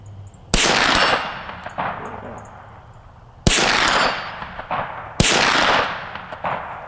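Ruger PC9 carbine rifle fired outdoors at a steel target: three loud, sharp shots spaced a few seconds apart, each followed by a long ringing decay and echo.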